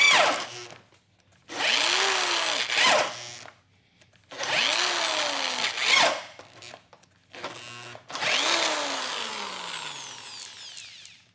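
Hyper Tough corded drill driving a 1-inch bit in four long bursts, its motor whine dropping in pitch as it bogs under load, with short silent gaps between runs and a spin-down at the end; no speech.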